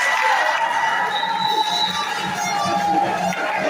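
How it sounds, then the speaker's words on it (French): A crowd at a political rally claps and cheers steadily for several seconds, a dense, loud wash of applause with scattered shouts throughout. "Applaudissez pour moi."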